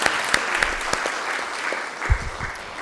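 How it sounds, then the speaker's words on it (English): An audience at an academic award ceremony claps, a steady patter of many hands filling the room. A few louder individual claps and bumps stand out, and no one speaks over it. "Let's give her a big round of applause for this prestigious honor."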